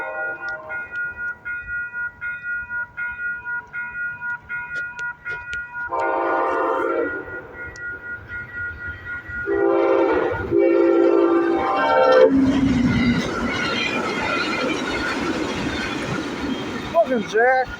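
A Norfolk Southern freight train passing by, with a loud horn sounding repeatedly, then a rising rumble and roar of rolling cars close by; a person talks over the opening stretch.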